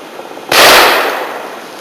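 A single sharp shot in the bush at Dunn's Swamp, Wollemi National Park, close and loud, a sudden crack trailing into a decaying echo over quiet surroundings.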